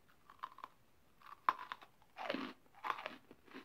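Several loud, close crunching bites into a crisp, twice-baked Trader Joe's pumpkin biscotti, sharp bursts separated by pauses, with softer chewing in between.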